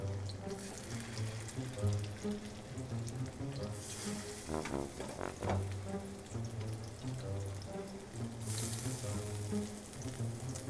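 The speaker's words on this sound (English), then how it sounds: "Ooh, hear the sizzle, hear the sizzle." Salmon patties sizzle steadily in butter in a hot pan, a constant crackling hiss close by, with a low hum underneath and no talking.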